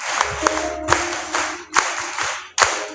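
A church crowd at a youth conference applauds for Jesus, brisk waves of many clapping hands rising and fading several times, close and full, with a faint low hum underneath.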